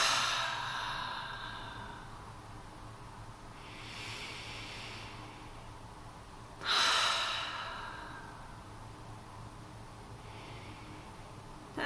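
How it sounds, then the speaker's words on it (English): Slow deep breaths drawn in through the nose and released through the open mouth during a guided meditation, soft airy hisses spread across the stretch with one louder, closer exhale midway. "taking a few deep breaths through the nose, opening the mouth as you exhale"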